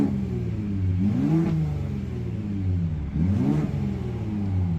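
A 2021 Ford F-150 Raptor in Baja exhaust mode revs hard twice, its loud, close engine note climbing and falling with no voices over it.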